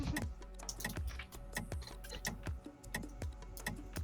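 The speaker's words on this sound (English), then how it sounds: "I was typing" Rapid clicking keystrokes on a computer keyboard, close and fairly steady, with irregular bursts of taps and no talking.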